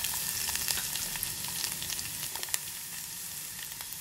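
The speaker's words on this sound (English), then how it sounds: "as the ghee is hot, we're going to add our dry fruits to this." Dry fruits such as almonds, cashews, pistachios and raisins fry in hot ghee with a loud, dense, steady sizzle, close and unbroken throughout.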